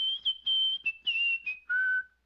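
A person whistles a short tune, clear and close, a string of sustained pure notes with brief breaks that steps down in pitch to a longer final note, alone with no other sound.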